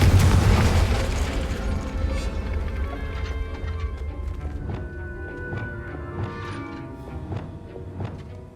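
A Confringo explosive spell bursts in the Hogwarts Legacy video game, opening with a loud booming blast followed by a busy run of thuds, clatters and lingering game effects that fade steadily over several seconds.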